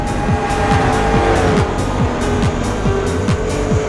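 Race cars roar along in the Test Drive Le Mans video game. Loud engines climb and drop in repeated pitch sweeps as the cars shift and speed past, with tire squeal mixed in and no talking.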